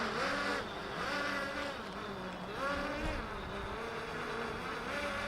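A small drone hovers and sways in a light morning breeze over Garliava, its propellers giving a steady, insect-like whine that rises and dips slightly in pitch and is heard alone.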